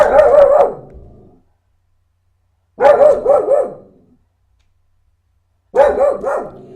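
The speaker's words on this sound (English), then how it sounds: "Dog might start barking in a second here." A dog barks in three separate bursts of several quick barks each, fairly close and loud, with silent gaps between them and no talk.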